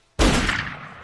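A single gunshot in a film scene cracks out suddenly and loudly from near silence, then fades away in a rumbling tail.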